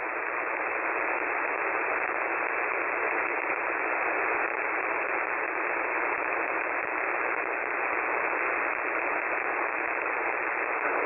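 Faint amateur radio transmission picked up on a KiwiSDR receiver during a Michigan internet relay net, heard as steady band-limited static hiss throughout with the weak signal buried and barely discernible.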